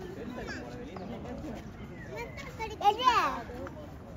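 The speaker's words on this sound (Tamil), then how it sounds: "இங்கே பாரு, மயில் கத்துது பாரு" A peacock at Vandalur Anna Zoological Park gives a loud, rising wail that stands out for about half a second near the end, over a steady hum of crowd chatter and children's voices.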